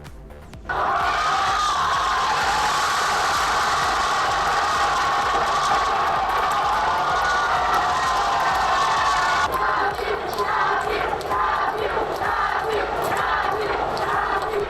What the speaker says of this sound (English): The crowd at pitch 25 seeing Brazil score in the 96th minute